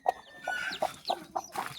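Brooding country hens on a Ratnagiri poultry farm cluck in short, close bursts, with thin high peeps from newly hatched chicks scattered between them.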